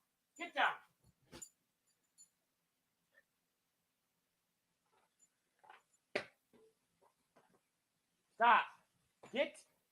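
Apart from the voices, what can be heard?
dog barking and whimpering indoors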